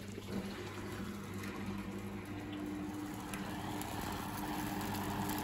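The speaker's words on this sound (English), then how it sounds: "you can hear the pump grinding as if there's sand in it" A Bosch WFP3300 washing machine pump clogged with limescale runs continuously with a low, rough grinding hum under rushing water, steady and moderately quiet throughout.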